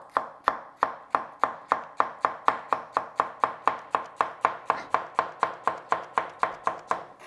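A kitchen knife slices capsicum peppers into strips on a cutting board, making a steady series of about two dozen crisp, evenly spaced chops, roughly three per second. They sound close and clear with quiet gaps between them.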